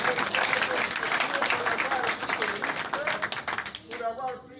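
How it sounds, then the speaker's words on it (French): Audience applause at an International Museum Day event, dense clapping that runs steadily and thins toward the end, with speech-like sounds mixed in. "applaudissez-leur."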